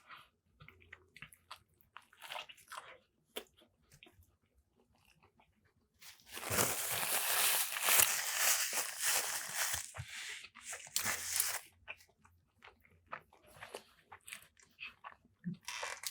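Biting and chewing Wendy's fast food, salty fries among it, during a mukbang: close, crunchy mouth sounds in scattered bursts, with a dense stretch of loud crunching in the middle.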